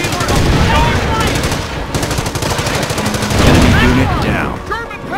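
Rapid bursts of gunfire and a German anti-tank gun firing across a bridge in the Company of Heroes game, with loud, dense volleys and scattered whistling shells up close throughout.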